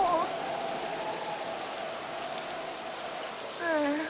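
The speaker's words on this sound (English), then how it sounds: "I've been driven out in the rain" Steady rain falls in an animated outdoor scene, a continuous even hiss, with brief voices at the start and end.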